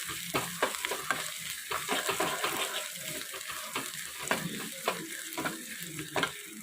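Tempering for Andhra tomato dal sizzles and crackles in hot oil in a pan while a spoon stirs it, giving irregular scraping taps over a steady frying hiss, close up and with no talking.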